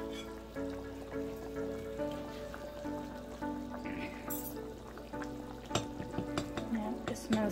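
Guyanese-style tilapia fish curry bubbling and sizzling in an open pot, a steady frying crackle with stirring scrapes and clinks throughout.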